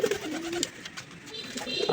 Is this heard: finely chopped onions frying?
no